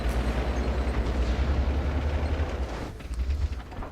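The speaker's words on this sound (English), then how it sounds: "Gets a shot into the Jagdpanzer 4." A tank cannon shot striking a Jagdpanzer IV in World of Tanks, heard as a heavy, booming low rumble sustained for about three seconds before easing off, with no talk.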